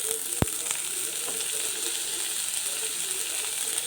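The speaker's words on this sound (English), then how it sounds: "Now this will take a minute to fry up" Cabbage frying with onions in a pan for a vegetable momo filling, a continuous close sizzle with one sharp metallic clink near the start and faint clicks of a utensil, no talking.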